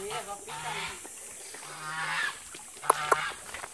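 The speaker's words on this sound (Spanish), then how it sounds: "Uy, uy, el ganso, el ganso." Geese honking in short, fairly distant calls with a few sharper honks near the end, under quiet background noise.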